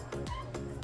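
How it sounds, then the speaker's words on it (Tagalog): Cat fighting with a dog at home, yowling in short, strained cries that rise and fall, close and fairly loud, over a brief moment. "Ingay yung pusa ko"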